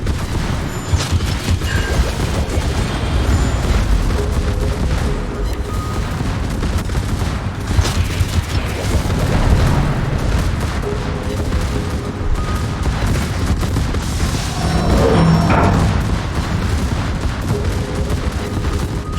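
Secondary battery guns of the German battleship Schlieffen in World of Warships, a relentless stream of overlapping booming shots and rapid cannon fire under constant battle rumble, loud and continuous throughout, with no talk.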